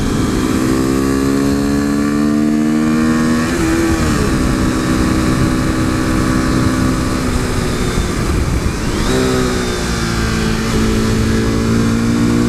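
A modified 2015 KTM RC 390 single-cylinder motorcycle engine revs up and down repeatedly, loud and close, with rising and falling pitch over a steady rumble.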